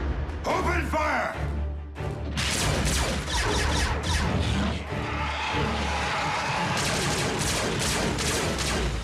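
Cartoon gunfire from Transformers: Prime robots erupts in rapid volleys of blaster shots and crashing impacts, loud and dense over several seconds, with shouted voices mixed in among the battle noise.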